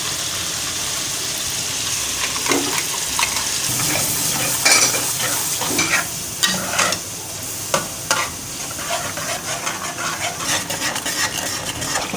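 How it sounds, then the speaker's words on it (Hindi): A thick masala of yogurt and browned onion is stir-fried in ghee for a paya and chana dish, loud close sizzling with repeated scraping, stirring strokes and occasional utensil clinks against the pot, no speech. "बस ये 5 से 10 मिनट तक भूनना है"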